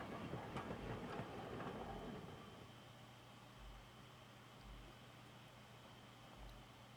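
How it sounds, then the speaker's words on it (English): A train in the Higurashi When They Cry video game rumbles along the rails with a steady low drone and faint periodic clacks, moderately distant and settling as it reaches its final stop. "It seemed the train had reached its final stop."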